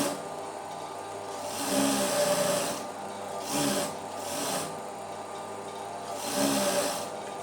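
A sewing machine stitches a lining blouse in short, separate bursts of rapid mechanical whirring, with quiet pauses between runs.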